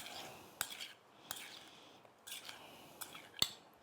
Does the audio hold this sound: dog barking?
no